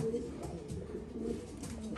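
Soft, low pigeon coos repeat steadily against a murmuring background, with faint rustling and a voice or two nearby, during nest cleaning for breeding pairs.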